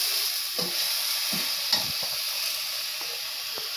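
Chital fish curry stirred in a pan with turmeric, cumin, chilli and coriander powders, sizzling steadily and fairly softly, with a few scraping stirs of the spoon and no talk.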